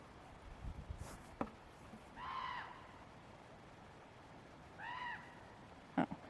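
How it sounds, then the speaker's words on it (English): A common raven in the open calls twice with hoarse, croaking notes spaced a few seconds apart. Sharp knocks and low background noise come between the calls, and nobody speaks. "Oh, it's a raven. A common raven, it's called."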